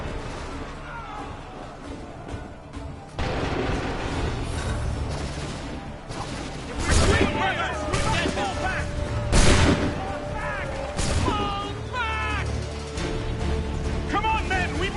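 Battle in Assassin's Creed 3 with repeated booming cannon blasts and musket shots, loud bursts over shouting voices and a steady background of combat noise.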